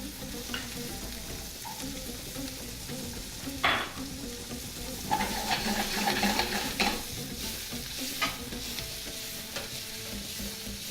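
Chickpeas frying in a pan, a steady close sizzle with occasional stirring scrapes and clinks, no voices.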